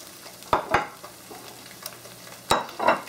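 Eggs frying over easy in oil in a pan, with a quiet sizzle broken by a few sharp scraping and stirring strokes that come in pairs.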